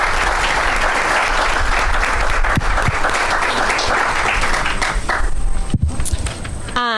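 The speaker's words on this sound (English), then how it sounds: "Please let's give them all a round of applause." A lecture-hall audience breaks into loud, sustained applause, dense overlapping claps filling the room evenly, with a few louder knocks and some shuffling near the end.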